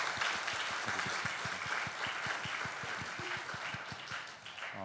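A church congregation at a Friday prayer meeting claps together in steady, rhythmic unison, a sustained wash of applause with regular beats running throughout.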